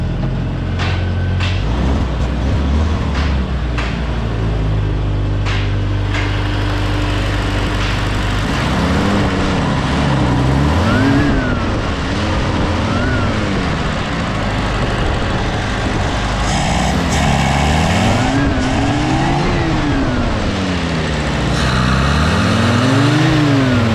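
An M151A2 military jeep engine cranks and catches, then idles roughly before being revved up and down several times. The engine is loud and close, with rising and falling surges, and no one speaks.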